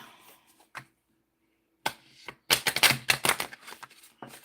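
Crisp rapid riffling and flicking of a deck of dream cards, brief bursts separated by a silent gap, up close with no talking.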